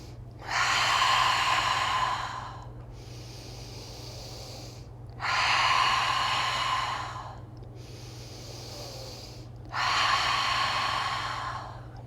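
Three slow, forceful cleansing breaths during a yoga class, each a loud, airy whoosh lasting about two seconds, separated by quiet pauses over a low steady hum.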